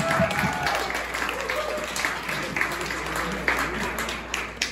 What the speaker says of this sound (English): Let's give the Knee High team a round of applause.